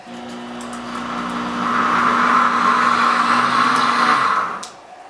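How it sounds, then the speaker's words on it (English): A deluxe cooking blender whirs up and runs loud and steady on boiling-hot soup, its motor holding a strong drone for a few seconds before spinning down and stopping. "And in a second it's going to blend it again"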